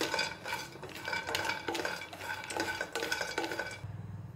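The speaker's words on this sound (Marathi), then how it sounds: "आता सुरुवातीला हे असेच भाजून घ्यायचे आहे" Chopped almonds dry-roasting in a pan for date laddoos, scraped and stirred with a metal spoon in a steady rhythm of clinks and rattles, close and clear with no talking.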